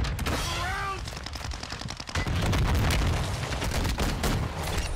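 Semtex sticky grenade detonating in a shooter game amid rapid gunfire, a heavy boom followed by dense crackling bursts of shots and a sustained loud rumble.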